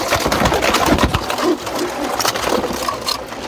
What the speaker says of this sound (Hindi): तो ये मेरे कबूतर है दोस्तों।